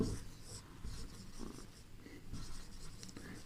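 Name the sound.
writing a note with a red marker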